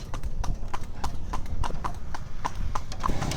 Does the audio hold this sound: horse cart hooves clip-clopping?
yes